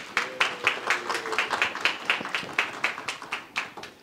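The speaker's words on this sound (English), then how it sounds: "So a round of applause for Deba," Steady applause from a seated audience at a book fair celebrating new American communities in Columbus, Ohio, with sharp, quick claps in a busy rhythm that rises and dips across about four seconds.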